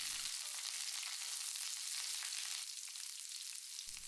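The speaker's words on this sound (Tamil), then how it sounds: "ஒரு 4 பச்சை மிளகாயும் கொஞ்சம் கருவேப்பிலையும் சேர்த்தி நல்லா ஃப்ரை பண்ணி விட்டுருங்க" Garlic, ginger, green chillies and curry leaves fry in hot oil for a mutton pepper curry, giving a steady, close crackling sizzle with no voices over it.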